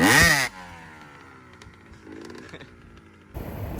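An engine roars loudly in a brief rev at the start, then drops away to a quieter idle and rumble before picking up again near the end.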